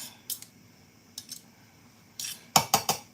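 A metal food processor blade is lifted out of its bowl after chopping onions, garlic, thyme and ginger, giving a few sharp metallic clinks and scrapes, sparse at first, then a quick cluster of bright knocks near the end.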